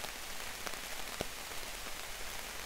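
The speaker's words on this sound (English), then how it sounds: "it's starting to rain again" Rain falls steadily on a forest campsite, likely pattering on a tarp, a soft continuous hiss with occasional louder individual drops, no voices.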